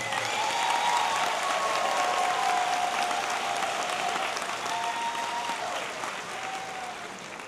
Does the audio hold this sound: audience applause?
yes